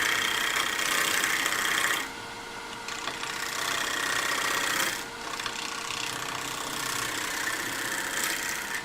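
A gouge rides the bevel across a wooden bowl spinning on a lathe, giving a continuous loud scraping whir with brief dips in intensity around the second and fifth seconds, no voices.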